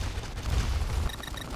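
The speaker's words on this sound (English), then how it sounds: "You actually have to shoot him out of the sky." Sustained gunfire and explosions from a sci-fi shooter game as the flying Rancor is shot down, a dense continuous barrage that is loud and close throughout.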